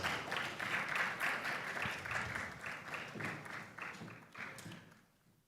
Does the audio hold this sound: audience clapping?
yes